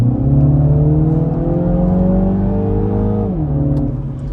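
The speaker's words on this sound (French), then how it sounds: "la décharge du turbo, qui est vraiment très présente et c'est ça rajoute aussi au plaisir sonore de cette voiture" Mini Cooper S GT Edition pulling hard under acceleration, its engine note climbing steadily before a brief dip as the turbo blow-off releases, loud and close with no talking.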